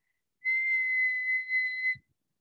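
A single clear whistled note, held steady for about a second and a half, with a slight waver near the end, in otherwise quiet surroundings.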